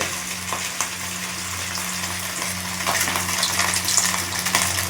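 Rohu fish pieces slide into very hot oil in a home kitchen and fry with a steady, dense sizzle and crackle that grows a little louder toward the end, with no voices over it.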